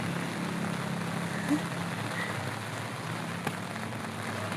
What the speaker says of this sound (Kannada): ಮಳೆ ಬರಾಕತ್ತೈತಿ